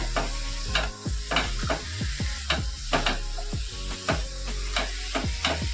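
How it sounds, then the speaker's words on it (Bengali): Fish head sautéing in a pan with ginger and cumin paste, a steady close sizzle broken by repeated scraping stirs at an even rhythm, with no voices. "মিশিয়ে ভালোভাবে একটু কষিয়ে নিতে হবে।"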